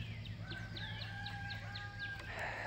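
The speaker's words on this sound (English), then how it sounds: "as I listen to all these beautiful birds" Several birds chirp and whistle outdoors in an African village in a steady, repeating pattern, with rising tonal calls layered over a low background hum.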